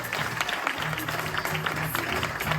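A crowd claps steadily, a dense, continuous wash of applause filling the room at a stage show.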